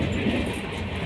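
Dibrugarh Vivek Express passenger train running through West Bengal gives a steady, close rumble with rolling wheel and carriage noise throughout this brief moment.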